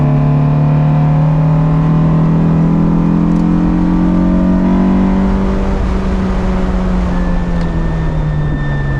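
A K24-swapped Honda S2000 accelerates hard on a race track, its engine note climbing steadily in pitch as VTEC engages, loud and close inside the car, a strong harmonic drone with no speech.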